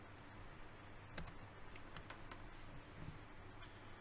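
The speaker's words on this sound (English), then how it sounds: "so I shall type that in." Faint, quiet keystrokes tap at an irregular pace on a computer keyboard while login credentials for a Ruckus Wireless ZoneDirector are entered, with a couple of slightly sharper clicks standing out against a steady low background hiss.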